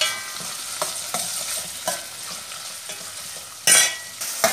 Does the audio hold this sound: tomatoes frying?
yes